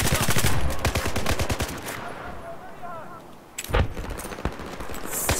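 Gunfire crackles in Battlefield 4, a rapid burst of close automatic shots at the start, then a quieter lull with faint distant sounds before more sharp shots resume, with a voice speaking over the game.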